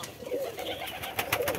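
Pigeons coo softly in low, rolling calls beside two pigeon chicks in a coop where grain is scattered, the brief cooing close and clear with no talk.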